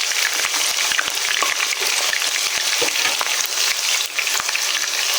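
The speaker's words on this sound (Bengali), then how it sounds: "পেঁয়াজটা এখন দিয়ে দিতেছি আমি এখানে।" Onions are added to hot oil with cumin and green chillies and fry with a loud, constant sizzle, broken by scattered crackles and spatters, no voices.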